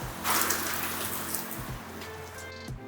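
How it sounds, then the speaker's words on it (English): Heavy rain falls in a continuous hiss and patter, with a loud gusting swell early on and a few brief tonal bits near the end, with no talking. "look at that rain"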